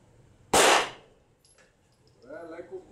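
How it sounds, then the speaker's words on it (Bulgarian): A single Glock pistol shot fired on command at an outdoor range, one sharp loud crack that decays quickly, followed by a voice speaking. "По команда огън един изстрел."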